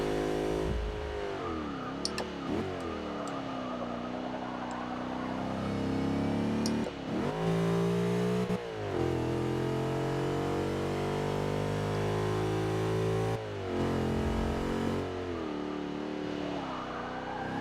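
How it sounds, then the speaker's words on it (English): A supercharged V8 in a Range Rover in the Forza 6 racing game revs repeatedly, rising and falling in pitch with loud harmonic growls and brief gear-change dips, heard alone. "supercharged V8."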